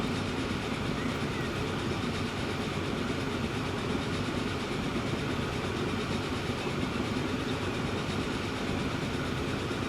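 A train in the Transport Fever 2 video game accelerating toward its top speed, heard as a dense, unbroken rolling rumble that holds steady and loud for the whole stretch.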